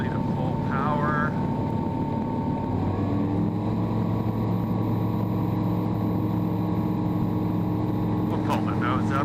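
A Sting light airplane with a DUC Swirl propeller runs its engine up smoothly to full power, a loud, steady droning roar with a strong harmonic hum that holds throughout, heard from inside the cockpit.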